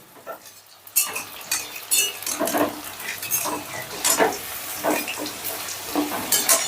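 Chicken pieces fry in a pan over a medium flame, a soft sizzle under repeated scraping and clinking of a utensil stirring against the pan, close and fairly loud, with no talking.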